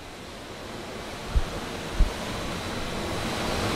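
Water running through a newly opened downstream gate valve at a pressure-reducing valve station: a continuous broad rushing hiss with a gradual rise in flow, broken by two brief low thumps.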